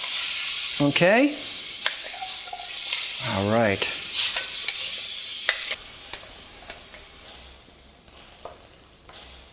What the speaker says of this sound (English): we're going to add some broccoli in here. And we give that a little mix up.